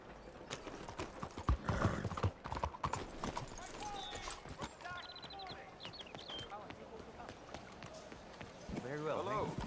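Horse hooves clip-clop at a brisk run in the Red Dead Redemption 2 game, rhythmic thuds continuing throughout under a rider's shouts and ambient game sounds, with a brief neigh near the end.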